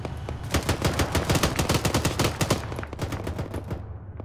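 A machine gun in the military video game Arma fires a sustained rapid burst of loud, close shots, a dense rattling stream for about four seconds with no voices.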